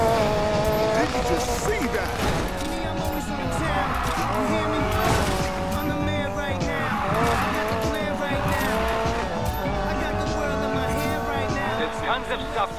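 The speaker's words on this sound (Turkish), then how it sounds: "Hadi bir de nos kökleyelim drift'e" A car drifting with nitrous boost in Need for Speed Payback, engine roaring loudly with long wavering tire squeals and skids sustained throughout, game music and effects layered underneath.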